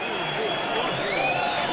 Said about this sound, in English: The crowd wanting to get on with it.